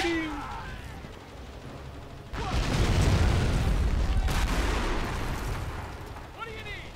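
Gunfire in a WW2 video game: a sustained loud burst of shooting and rumbling blasts starts partway through and fills the rest, with voices heard faintly around it.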